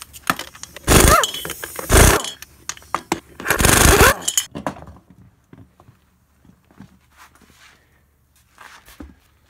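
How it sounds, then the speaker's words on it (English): Pneumatic air gun zipping a 14mm socket onto the rear hub bolts of a Raptor 660 ATV, two loud bursts of about a second each, followed by quiet clinks of tools and bolts. "I'm using the air gun."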